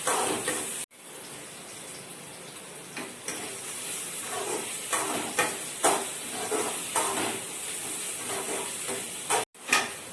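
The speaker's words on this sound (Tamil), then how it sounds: "இப்போ வெங்காயம் வதக்கிட்டு இருக்கேன் பாருங்க." Chopped onions sauté in a pan for South Indian drumstick sambar, giving a steady hissing sizzle with periodic scraping stir strokes, two brief dropouts, and a close, bright texture throughout.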